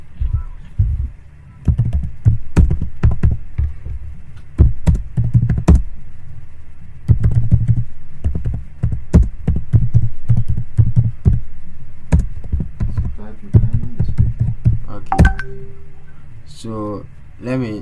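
Steady typing on a computer keyboard, close and fairly loud, with uneven bursts of key taps and brief pauses, and a voice talking over part of it.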